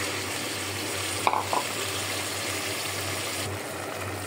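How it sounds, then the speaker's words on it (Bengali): Washed potatoes dropped into a pan of sizzling beef curry, a brief clatter over steady frying hiss that fills the whole stretch, no talking. "আমি আলুটা দিয়ে দিলাম।"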